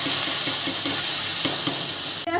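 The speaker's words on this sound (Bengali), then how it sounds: "ফোড়নটা দিয়ে একটু নাড়াচাড়া করলাম, করে আমি মিক্সিতে গ্রাইন্ড করা পেঁয়াজগুলি দিয়ে দিলাম।" Ground onion paste hits hot oil with cumin and bay leaf, a loud, dense sizzle that holds steady from start to finish, close at hand, with faint stirring pulses and no talking.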